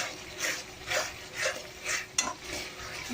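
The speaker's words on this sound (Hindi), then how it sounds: "मसाला अच्छे से भूनेंगे।" Spices roasting in oil in a pan are stirred with steady, rhythmic scrapes, about six strokes at half-second intervals. The scrapes are soft and close, with one sharp clink of the utensil near the end.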